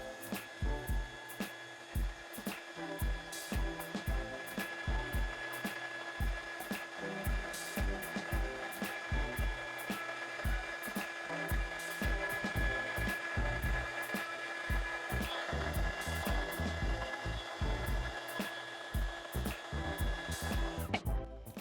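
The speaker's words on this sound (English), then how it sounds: "Okay, now let's take out our heat gun." A heat gun drones steadily for a long stretch, its fan and heater humming with a tonal whine close by, broken by repeated clicks and faint handling knocks, with no talking.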